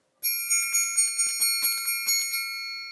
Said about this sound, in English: It's our triangle!